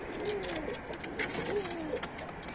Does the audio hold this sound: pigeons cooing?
yes